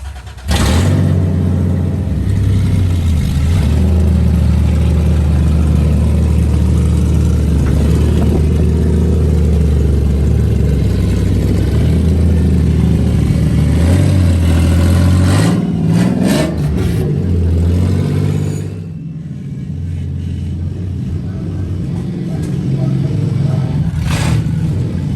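A 2nd-gen Toyota 4Runner with a swapped 3.4L V6 5VZ-FE engine and loud exhaust, a deep rumbling drone that rises into revving, then settles to a lower idle, with a voice occasionally audible.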